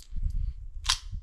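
A single sharp, small shot from an AMT Backup pistol, a bright crack over low background rumble; no talking.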